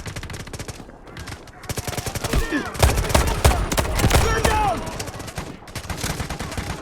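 Dense automatic and single gunfire bursts in the Delta Force Mobile shooter game, loud and rapid, with clustered volleys and brief pauses throughout.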